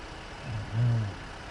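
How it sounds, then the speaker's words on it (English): A bus engine in Bus Simulator 21 gives a low rumbling swell that rises briefly and then settles back to a quieter idle, heard alone against steady background hum. "I just heard your engine rev down."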